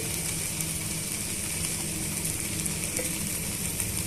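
Asafoetida and spices frying in hot oil for a pickle give a steady, close sizzle with soft crackle throughout, alone and unbroken.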